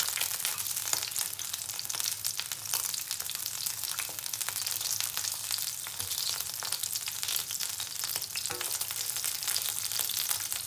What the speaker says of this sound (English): I will fry until shrimp is changed to be orange